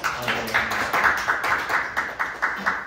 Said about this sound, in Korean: 하나님을 감사의 박수 한번 올릴까요?